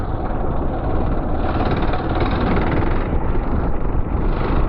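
A Kawasaki KLR motorcycle on Michelin T63 tires is ridden along a rough road, its steady engine drone buried under heavy, constant wind rush.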